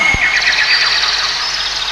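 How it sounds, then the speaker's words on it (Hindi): Birds chirp in a quick, high trilling run against a steady background hiss, with a brief low thump at the start. "चिड़िया बोलने लगी।"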